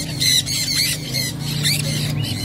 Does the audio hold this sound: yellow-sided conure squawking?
yes